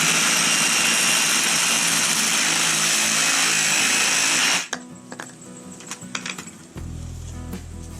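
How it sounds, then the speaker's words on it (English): A Sawzall reciprocating saw cuts through pipe on a DIY keg urinal build, a loud, continuous buzzing rasp for several seconds that stops abruptly, followed by faint knocks and handling noise. "Just whack this off with a Sawzall real quick."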